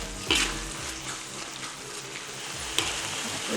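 Large onions sizzle in a pan while sambal for nasi lemak cooks, a steady close frying hiss with a couple of brief stirring clatters, no talking.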